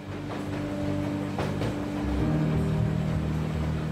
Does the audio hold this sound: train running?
yes